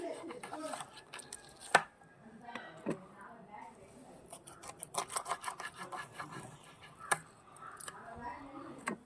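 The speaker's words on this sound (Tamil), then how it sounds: "பாருங்கள் எப்படி கட் பண்ணுறேன்னு" A knife cutting fish, with sharp scattered chops and scraping cuts at close range, coming irregularly among quieter handling noises.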